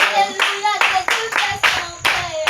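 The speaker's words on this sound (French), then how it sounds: "Acclamez" A congregation at a church revival in Anyama, Côte d'Ivoire, clapping in a steady rhythmic beat, loud and close, with voices mixed in among the claps.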